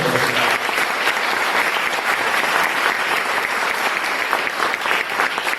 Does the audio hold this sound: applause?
yes